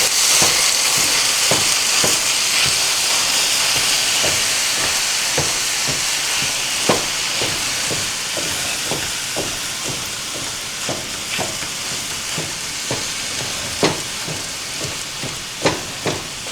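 Ground taco meat sizzles and fries loudly in a pan with a constant hiss, broken by irregular scraping taps of a utensil chopping and stirring as it browns.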